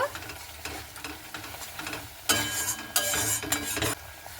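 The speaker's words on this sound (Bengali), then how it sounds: "অল্প একটু দিয়ে দিচ্ছি কাশ্মীর লঙ্কার গুঁড়া কালারের জন্য খুব ভালো করে মিশিয়ে নেব" Spice masala with Kashmiri chili powder stirred in a pan over a soft sizzle, with louder scraping bursts of the spatula in the second half; close and fairly loud, no talking.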